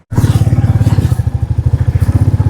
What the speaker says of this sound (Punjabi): ਪਹਿਲਾਂ ਮੋਟਰਸਾਈਕਲ ਬਾਹਰ ਖੜਾਉਣ ਲੱਗੇ ਸੀ ਬਾਈ ਕਹਿੰਦਾ ਅੰਦਰ ਬਾੜ ਦੋ